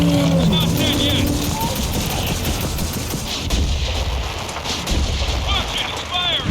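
Heavy gunfire and explosive blasts from a large enemy monster in the Gears of War 4 video game, loud and continuous, with in-game voices shouting over the barrage.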